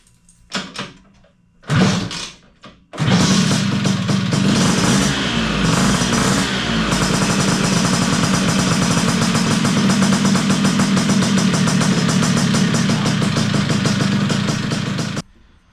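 A Vespa smallframe scooter engine is kick-started: a couple of sharp kicks, then it catches and runs loudly and steadily at a close, even idle until it cuts off. No talking.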